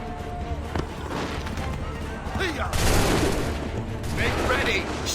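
A volley of soldiers' gunfire in the Assassin's Creed 3 game, heard as a dense, crackling fusillade that swells partway through over steady battlefield noise.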